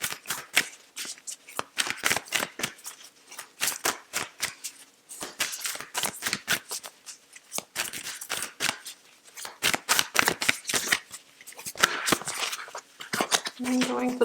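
Tarot cards being shuffled by hand in a card-drawing session, a close, steady run of crisp riffling and flicking bursts that keeps going throughout, with a voice speaking at times.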